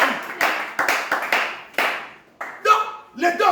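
A church congregation claps in praise, close irregular bursts of hand claps in uneven rhythm with voices mixed in.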